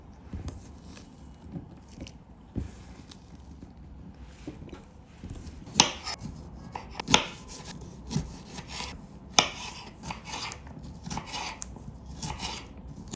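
A knife dices chicken breast into cubes on a board for a violet salad, with soft rubbing strokes and a few sharp, irregular chops standing out close by, no talk.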